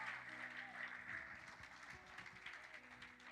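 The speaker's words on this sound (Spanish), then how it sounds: "Pueden aplaudir al Rey de Reyes y Señor de Señores." A church congregation applauds the King of Kings during a Spanish-language sermon by a pastor, a faint, steady wash of clapping with murmured voices and a low tonal hum underneath.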